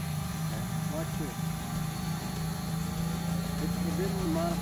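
A drone warming up on the ground before flight gives a steady, close electric whine and hum with a wavering tone, continuous and loud, with people talking over it.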